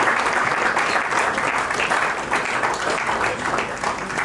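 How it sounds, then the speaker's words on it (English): An audience at a Rotary Club investiture ceremony applauds loudly and continuously, dense overlapping clapping filling the hall for the whole stretch. "Please a big round of applause for them."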